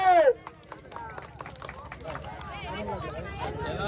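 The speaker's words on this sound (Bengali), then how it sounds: "তাদের জন্য জোরে একটা হাততালি হবে।" A group claps for the contestants of a village duck-catching game. Scattered bursts of hand claps sound close, mixed with excited talking voices.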